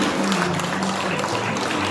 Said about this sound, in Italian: facciamo un applauso a Vincenzo Rosana